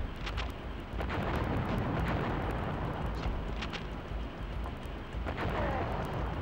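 Grenade rounds explode in Duke Nukem: Land of the Babes, a steady dense rumble of blasts with scattered sharp cracks, loud and continuous throughout with no talk.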